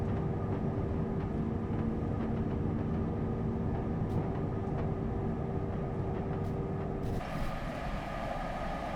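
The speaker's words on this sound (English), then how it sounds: "if the train is humming, it means it's accelerating or decelerating" Steady motor hum of a TGV Reseau high-speed train in Train Simulator 2021 on the Northeast Corridor, a continuous rumble under a faint whine that shifts slightly near the end.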